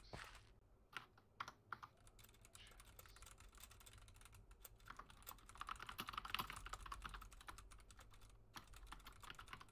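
Fast, steady clicking of a computer keyboard, typed by someone during a modded Minecraft session, sits faint and close with no talking.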